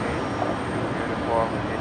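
Steady broadband roar of a departing airliner, flight QA 1948, leaving the runway at Brisbane Airport at night, continuous and fairly loud, with a voice mixed in.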